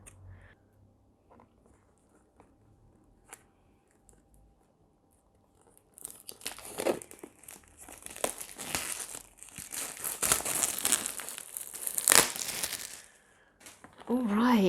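Crinkly plastic shrink-wrap being torn and crumpled off a Tao Oracle card deck, a dense run of close crackling and tearing noises that starts partway through after a quiet stretch.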